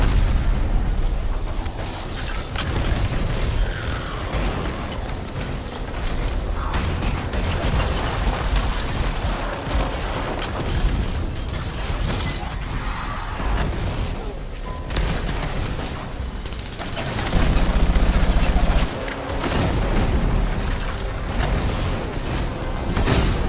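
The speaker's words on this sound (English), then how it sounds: "point blank range, 3 nukes. And some mortars." Nuke and mortar blasts go off at point blank range in the video game Anthem. Loud, dense, overlapping booms and crackling bursts roll on almost without pause.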